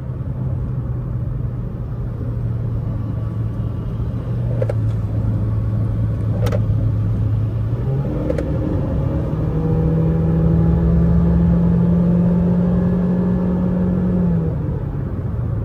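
A car with no exhaust fitted accelerates hard, a loud steady engine drone whose pitch climbs sharply midway and then holds high under a heavy continuous road rumble.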